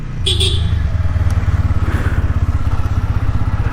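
A 2025 TVS Apache RTR200 4V motorcycle runs close by, its engine and exhaust giving a loud, steady, throbbing low rumble with a fast pulsing beat throughout.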